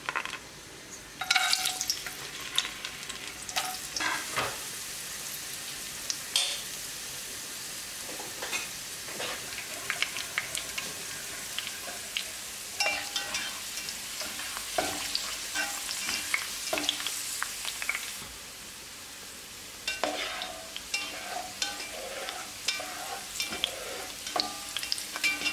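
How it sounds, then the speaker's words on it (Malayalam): Cashews and raisins fry in coconut oil and ghee for a Kerala beef biryani, giving a steady, close crackling sizzle with frequent scraping stirs and spoon clinks that rise and fall across the whole stretch, with no voices. "ഇതിലേക്ക് നമുക്ക് കുറച്ച് അണ്ടിപ്പരിപ്പും മുന്തിരി ഒന്ന് വറുത്ത് കോരിയെടുക്കാം"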